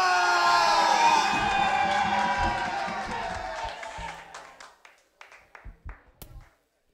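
A live concert crowd at a show cheers and whoops over loud stage music, the roar fading over a few seconds into scattered shouts and a handful of sharp claps before falling silent.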